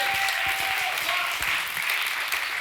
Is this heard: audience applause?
yes